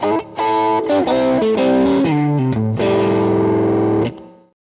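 Bluesy double-stop lick in fourths on a heavily distorted electric guitar, paired notes sliding and shifting in a steady phrase, loud and close, ending on a ringing held chord that fades.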